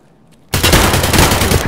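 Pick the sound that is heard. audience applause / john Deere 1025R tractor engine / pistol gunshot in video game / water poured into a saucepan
pistol gunshot in video game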